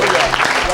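A church congregation at a special Sunday service applauds and acclaims the Lord, a dense burst of clapping mixed with cheering voices, loud and close throughout the short moment.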